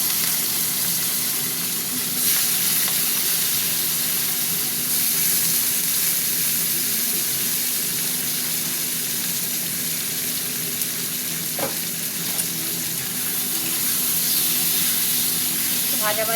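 Prawns frying in hot oil in a pan, a steady broadband sizzle with a constant low hum underneath and a couple of brief clinks.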